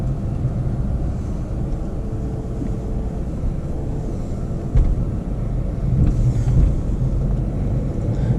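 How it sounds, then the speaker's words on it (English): A 2016 Mercedes A200 A-Class drives around town, heard from inside the cabin as a steady low engine and road rumble with a slight swell near the end. "driving the 2016 Mercedes A-Class. We're going to do some driving around town"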